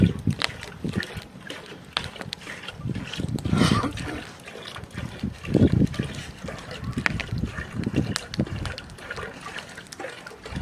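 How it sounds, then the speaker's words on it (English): Birch sap water is strained outdoors into a pot to remove debris and leaves, with intermittent pouring, trickling and splashing bursts of moderate loudness across the whole stretch. "I've almost got all of my water strained out into the pot."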